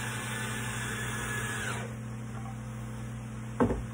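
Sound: screws being tightened on a kids rocking chair

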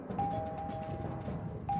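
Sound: doorbell ringing

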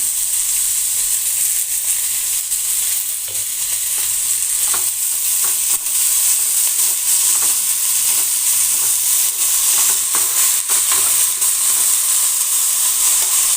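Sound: azolla frying with curry leaves in pan

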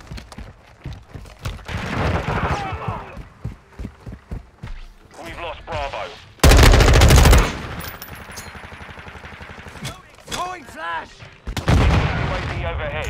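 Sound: gunfire in video game Modern Warfare II

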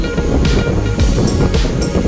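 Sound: strong wind

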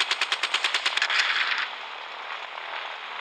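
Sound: machine gun firing in Gunship Battle video game

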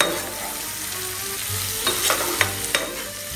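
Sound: stirring pointed gourd curry with salt in a pan

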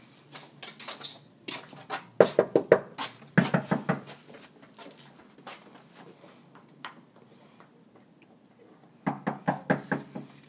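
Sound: knocking on a door

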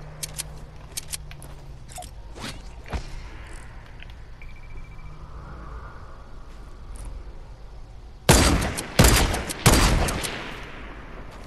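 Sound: gunfire in the video game Fortnite

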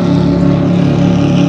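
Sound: loud motorboat passing on lake

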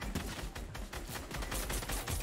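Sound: gunfire in a video game

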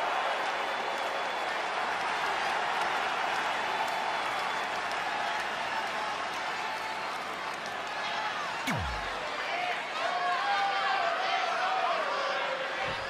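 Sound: crowd cheering in video game arena

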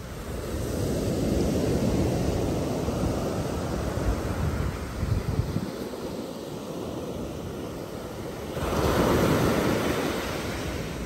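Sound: sea waves on a seashore

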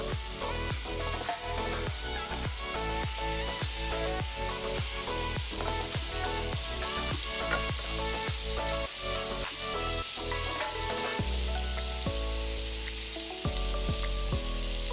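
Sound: garlic frying in oil in a pan

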